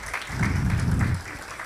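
Audience at a grand celebration event in a Holiday Inn ballroom in Dubai claps, a short dense burst of applause that swells and then fades within under two seconds, with no talk.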